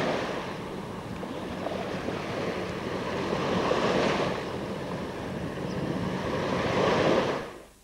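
Waves washing onto a small beach on the Gotland coast near Klintehamn, a steady broad surf swelling and easing in slow surges, with wind buffeting the microphone and no voices.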